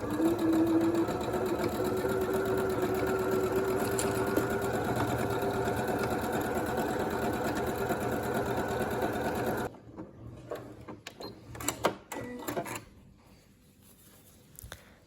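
A sewing machine runs a stretch stitch attaching a cuff to leggings, a steady close rapid whirring for nearly ten seconds, then stopping, followed by scattered handling rustles and clicks of fabric being adjusted.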